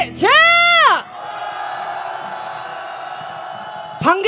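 A crowd at a candlelight protest march erupts in a loud, unified shout, then keeps up a sustained roar of cheering before another shout rises at the end.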